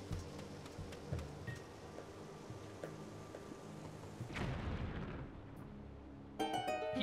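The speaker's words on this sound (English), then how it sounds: "This definitely looks bombable, so you best believe your boy's about to bomb it." Bomb blast in Zelda: Skyward Sword in the North Desert, a rumbling explosion erupting about halfway through after quieter rustling game ambience, followed by a short chime-like game sound near the end.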